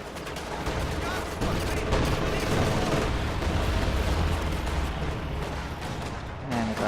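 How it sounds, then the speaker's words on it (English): A strafing run in the Company of Heroes 2 video game brings dense gunfire and rumbling booms that build into a loud, continuous barrage. A commentator talks over it. "but a strafe is getting called in"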